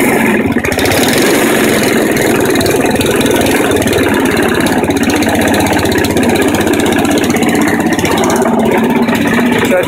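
Small 3.5 horsepower lawn mower engine idling after being throttled down from full revs, a loud, steady, close mechanical drone with a fast even putter and no pauses.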